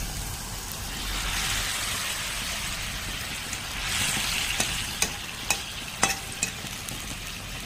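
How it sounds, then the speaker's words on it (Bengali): Pomfret fish curry simmering in a pan, a steady soft sizzle and bubbling with a few sharp clicks and taps near the end, no talk. "জলটা দেওয়ার পরে 1 মিনিট ফুটিয়ে নিলে দিয়ে দিব মাছ।"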